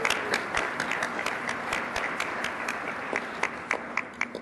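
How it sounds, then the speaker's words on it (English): A legislative chamber breaks into a round of applause for staff members, a broad sustained clapping from many hands with a few sharper individual claps standing out, and no talking over it. "So please give them a round of applause."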